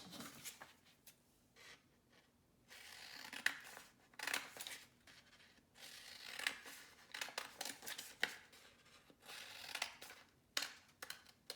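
Scissors snip through folded paper for a paper weaving craft, a quiet run of separate crisp cuts and rustles with short pauses between them, close up and with no talking.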